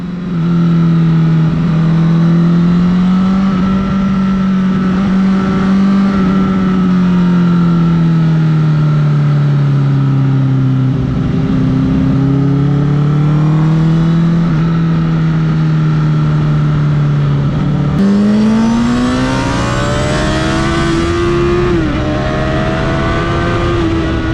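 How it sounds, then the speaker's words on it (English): A car lapping Knockhill race track on a track day, heard from the cabin as a loud, continuous engine note that rises and falls with revs, then climbs sharply near the end. "this is my first solo lap of Knockhill"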